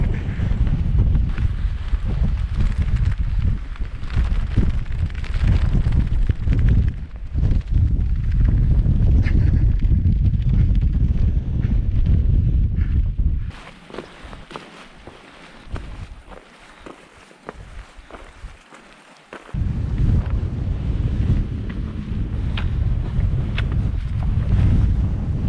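Cold wind on a Cairngorms hike buffets the microphone in loud, rough gusts, dropping to a quieter lull midway before the roar returns.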